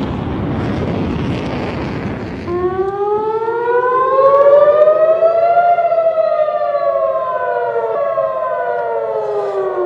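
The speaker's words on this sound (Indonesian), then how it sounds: "Bunyi sirene pun menggema di kota Tel Aviv saat sistem pertahanan udara Israel mencegah sejumlah serangan udara" Following a burst of noise, an air raid siren in Tel Aviv starts its long wail during air defense interceptions, rising and then slowly falling in a loud, sustained tone.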